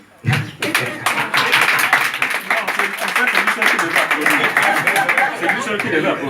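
An audience claps in a dense burst of applause that starts abruptly and carries on steadily, with murmurs and a voice or two talking over it.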